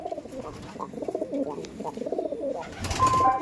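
A pair of Madrasi pigeons offered for sale coos in soft, low, repeated throaty rolls at close range, with a brief rustle or clatter near the end.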